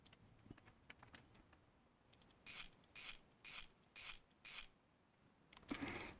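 A hand ratchet cranks a bolt on a car brake caliper in a garage, producing five crisp, evenly spaced clicking bursts that stand out clearly against a quiet background.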